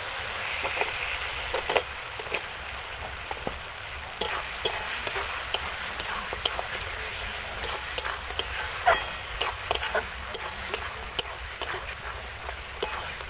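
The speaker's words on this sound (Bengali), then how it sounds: "মশলাতে আলু দিয়ে আলুটাকে কষে নিয়েছি" Pre-fried potatoes being sautéed in a cooked spice paste, with steady stirring and scraping of a spoon in the pan over a soft sizzle, the taps close and irregular throughout.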